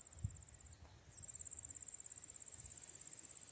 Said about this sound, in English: You got grasshoppers galore.